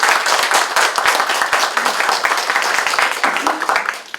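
Audience applause greeting guests being introduced at a Korean foundation anniversary ceremony in a hall, steady dense clapping throughout with a voice talking faintly underneath.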